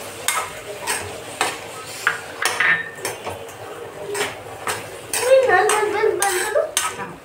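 A spoon stirs lemon pickle in a bowl, sweet-and-sour lime pickle dressed with lemon juice, giving repeated close scraping and clinking strokes against the bowl with a few sharper taps, no talking.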